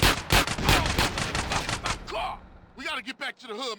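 Rapid bursts of gunfire from GTA San Andreas during a drive-by attack, loud, tightly spaced shots for about two seconds, followed by an in-game character speaking.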